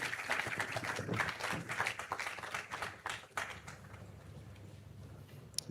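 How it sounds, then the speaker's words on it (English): An audience gives a round of applause to welcome Professor Dasmani at a University of Cape Coast School of Economics event, steady clapping heard from a distance that gradually thins out. "So a round of applause. Let's welcome Professor Dasmani."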